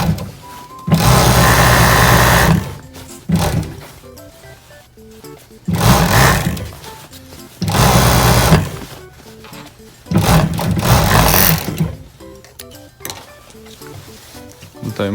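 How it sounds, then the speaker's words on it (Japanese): An overlock sewing machine finishes the hem of men's slacks in loud, close bursts of fast whirring stitching, each run lasting a second or two with short quiet gaps between. "でロックかけます。"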